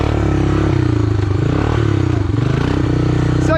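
A Honda Big Red three-wheeler engine revs steadily while riding, a loud continuous motor drone with shifting pitch as it runs through the gears, close and alone without talk.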